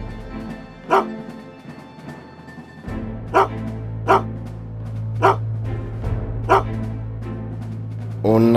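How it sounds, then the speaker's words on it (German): A dog in a German Playmobil children's film barks sharply about six times at even intervals, loud and close, over a low steady hum and background music. "Oh nein, nicht schon wieder dieser Köter."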